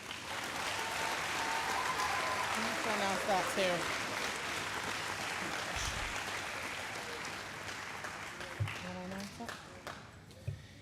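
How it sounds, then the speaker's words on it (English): A high school athletic awards audience applauds senior athletes with sustained, dense clapping throughout, while voices talk over it now and then. "Please give them a round of applause for their efforts."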